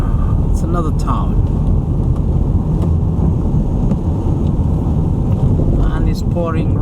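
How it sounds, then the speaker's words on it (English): Heavy rain pours steadily onto a car while driving through a town, a dense constant hiss, with faint thunder-like rumbles and a few brief spoken words from occupants underneath. "And it's pouring rain."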